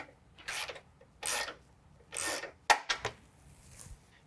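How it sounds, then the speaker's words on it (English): A 17mm wrench snugs nylon nuts on a steel bull bar being fitted to a 2017 Ford F-150, giving three rhythmic ratcheting rasps followed by a few quick sharp clicks, close and fairly quiet. "So now we're going to use a 17mm and just snug these up."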